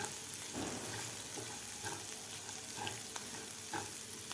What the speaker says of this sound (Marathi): ते कूटसुद्धा खालच्या मसाल्यामध्ये व्यवस्थित परतून घ्यायचं आहे